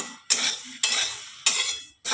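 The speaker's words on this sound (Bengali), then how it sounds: "একটু হালকা করে আমাকে ভাজতে হবে, একটু হালকা করে ভেজে নিলে মুগ ডালটা তার টেস্টই আলাদা হবে" Moong dal is lightly dry-fried in a pan, heard as three distinct, close scraping strokes of stirring against the pan with short pauses between them and no talk.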